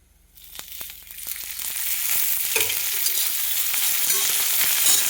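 Green chilies fry in hot oil for a rustic thecha while being stirred in the pan, a faint start that builds into a steady, loud sizzle with scraping and crackling throughout, no talking.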